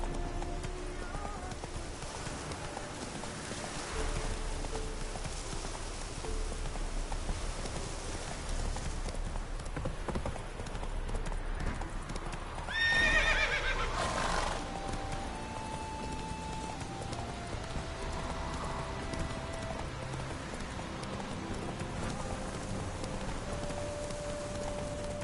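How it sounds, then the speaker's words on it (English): Hoofbeats of a horse in a PS4 video game, a steady clip-clop running through the whole passage at moderate level with faint ambient game sound; any neighing is not clearly evident. "Whoa there, Roach"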